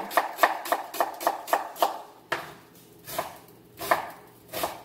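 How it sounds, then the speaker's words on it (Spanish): A knife chops an onion on a board, a quick run of about seven evenly spaced crisp strikes followed by slower, scattered cuts; close and clear, with no talking. "No muy fina, la vamos a picar de esta manera."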